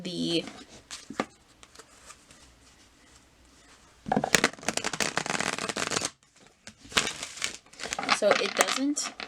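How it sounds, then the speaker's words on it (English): Tarot card shuffling in two bursts of riffling and shuffling, close and crisp, with quiet speech in between. "You also have to shuffle like this"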